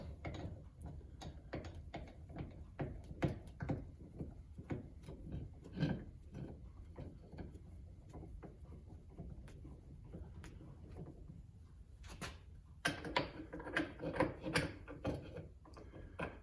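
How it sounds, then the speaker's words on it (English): A bench vise is cranked open during a trailing-arm bushing job, producing a run of quiet metallic clicks and ratcheting taps with small knocks, close by and with no voices. "we're going to open up our vise"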